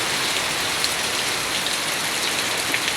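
A thick, steady wash of typhoon rain from Emong, heavy and near, holds at one level for the whole stretch with no talk or other sounds.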